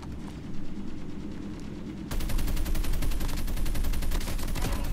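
Shotgun fire in a video game shooting match, loud rapid shots crowding close together, growing denser and heavier in the second half.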